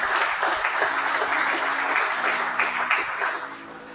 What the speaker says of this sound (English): Can we put a round of hands together for a round of applause for everybody who came tonight?